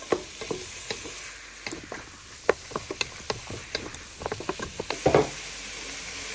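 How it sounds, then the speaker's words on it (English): Tomatoes go into a hot pan holding onion and garlic for smoky jollof rice. A steady crackling sizzle is scattered with sharp pops and ticks, and a denser burst of spattering comes near the end. No one speaks. "So you now place on all your tomatoes."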